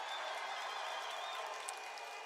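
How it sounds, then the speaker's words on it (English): A distant, steady crowd roar with scattered applause and cheering at a hockey arena, sustained and fairly faint throughout, rising briefly near the end. "That reaction from the crowd you just heard was a result of the Georgia Bulldogs defeating the Auburn Tigers"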